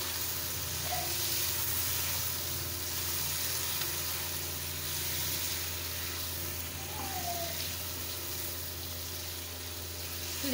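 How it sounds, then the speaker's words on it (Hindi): Chicken seasoned with chilli, dried coriander, turmeric and garam masala frying in a pan, a steady broadband sizzle holding at even loudness throughout with only occasional faint stirs. "ये डाल के अब इसे फिर हम 2 मिनट के लिए भूनेंगे"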